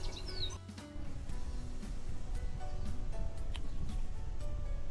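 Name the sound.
birds chirping outdoors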